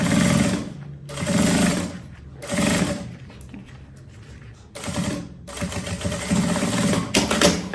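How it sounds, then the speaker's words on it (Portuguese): Sewing machine stitching a quilted puffer tote bag, running in several loud bursts of rapid stitching separated by short pauses, close and alone with no talk. "Agora eu viro aqui, costuro a outra metade."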